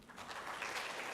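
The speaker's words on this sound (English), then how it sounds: "a round of applause" Audience applause at a conference, a brief soft patter of many hands clapping together, fairly distant and quiet.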